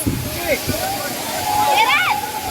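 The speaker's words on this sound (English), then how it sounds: "The water is just hitting the ground with massive force." The Gandahati waterfall in Gajapati, Odisha, crashing onto the ground with massive force, a constant loud roar of falling water, while voices talk and whoop over it.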